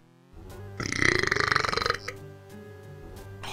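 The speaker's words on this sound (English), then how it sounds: "That was a really satisfying burp" A single loud, drawn-out burp rolls out for about a second with a pulsing, throaty rattle, over a quiet music backdrop during a Pokemon Emerald playthrough.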